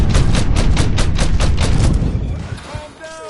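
Rapid bursts of gunfire from the video game Mafia III, roughly a dozen sharp shots in quick succession, loud and close, then tailing off into quieter game sounds with shouted voices mixed in.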